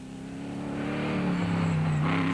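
A G-Force Proto rally car drives a desert special stage in Aragon, Spain. Its engine note climbs and shifts in pitch as the car draws closer and grows louder, a rising, buzzing drone.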